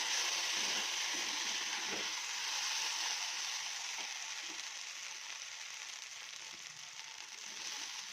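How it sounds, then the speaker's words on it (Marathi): Okra (bhindi) sautéing in ghee and oil in a pan over lowered heat gives a steady, soft, bright sizzle that carries on evenly throughout, with a few faint stirring clicks. "आता गॅस कमी करून ह्याला मी परतू देते"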